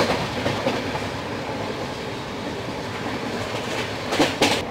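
The 20505 Dibrugarh–New Delhi Rajdhani Express rolls past nearby, a loud, steady rumble of wheels and carriages with rhythmic rail clatter that swells slightly toward the end.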